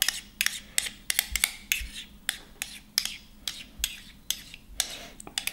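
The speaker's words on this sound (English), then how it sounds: "We're going to just scrape all the mayonnaise off the immersion blender, trying to keep it all in the jar." Utensil scraping homemade mayonnaise off an immersion blender into a jar: a series of irregular light clicks and clinks of metal against glass with soft scraping between, close and quiet, no speech.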